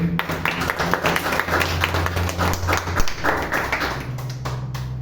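A church congregation breaks into loud, sustained applause, a dense wash of many hands clapping nearby, with a low hum of voices beneath.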